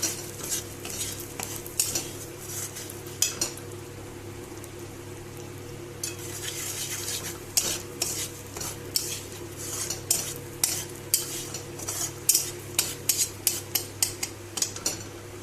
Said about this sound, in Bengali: এখানে ফোড়নের জন্য নিয়েছি আমি গোটা জিরে আর লবঙ্গ, এলাচ আর দারুচিনি দিয়ে আর কি আমি এই ফোড়নটা করে নেব।